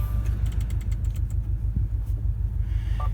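A 2018 Subaru WRX STI engine runs with a steady, deep rumble close by, the low throb continuing without a break and a few faint clicks on top.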